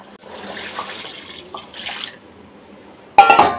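Broth is poured into drumstick soup, a soft liquid trickle with light clinks of a pot and utensil, followed by a sharper, louder splash and rattle near the end.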